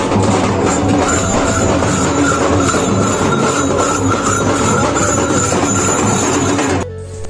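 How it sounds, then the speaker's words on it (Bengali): A nearly empty passenger train rolls steadily on its way toward Sealdah, heard from inside the carriage as a constant loud rumble with rail clatter; the noise drops abruptly near the end. "আমরা এখন ট্রেনে উঠে পড়েছি, আর ট্রেনটা ফাঁকা ছিল।"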